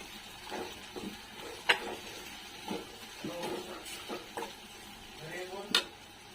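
Red chili powder, black chili powder, salt, turmeric and ground peanuts stir-fried with onion in a pan over low gas: irregular scraping spatula strokes with sharp clinks on the pan over a soft, steady sizzle.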